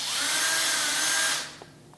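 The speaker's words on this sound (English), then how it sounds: "So I'm taking the cordless drill and then drill the holes" A cordless drill whirs steadily while boring a hole into a ceiling for a smoke alarm mount, then winds down after about one and a half seconds, followed by a faint clunk.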